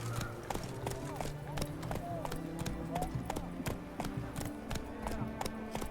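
The horse Roach gallops in The Witcher 3, its steady clip-clop hoofbeats running throughout under game music and a voice talking over the ride.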